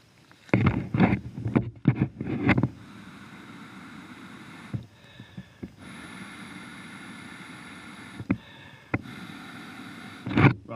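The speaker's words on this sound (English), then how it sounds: "Does it make a difference if I blow air into it?" Someone blows air by mouth into an inflatable, a series of loud, breathy puffs in bursts separated by quieter stretches with a faint hiss.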